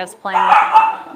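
A puppy yips and barks in the background, a short burst of high excited barks with a voice talking over it.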